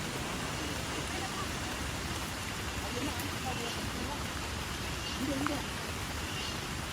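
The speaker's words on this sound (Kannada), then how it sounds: "ಇಲ್ಲಂತೂ ಬೆಳಗ್ಗೆಯಿಂದ ಮಳೆ ಹುಯ್ತಾನೇ ಇದೆ" Heavy monsoon rain pours during a trek to a waterfall in Dakshina Kannada, a dense, unbroken roar of falling water close by, with a voice faintly underneath.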